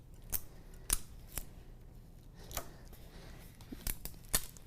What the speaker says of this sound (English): I'll just go ahead and cut away my excess here.